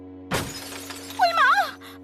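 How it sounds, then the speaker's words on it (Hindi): A mirror's glass shatters as a cartoon-style sound effect: a sudden loud crash followed by warbling tinkles over a sustained musical tone. "शीशा टूट जाएगा।"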